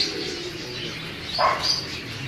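Pigeons coo softly in a loft, a low murmuring coo with a brief faint chirp, close and gentle against a steady background.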